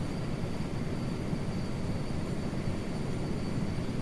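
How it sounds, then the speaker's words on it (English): A Sikorsky S-64 Skycrane helicopter in flight in MSFS 2024 gives a steady, broadband rotor and turbine roar with a faint high whine. The sound is constant and unbroken, with no talk. "But yeah, this helicopter is really good."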